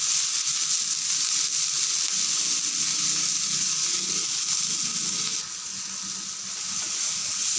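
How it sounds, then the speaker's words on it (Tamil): Onions sautéing in a pan with a little salt, giving a steady, loud, close sizzle and crackle throughout, with faint stirring underneath and no talking. "இதை நல்லா வதங்கட்டும்."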